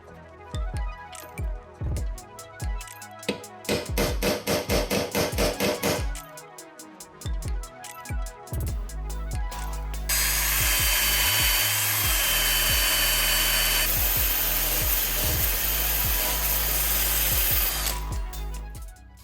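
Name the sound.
grinding paint off steel for engine mounts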